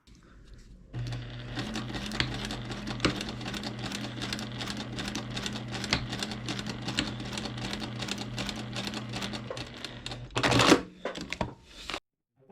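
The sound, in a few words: sewing machine stitching through paper and fabric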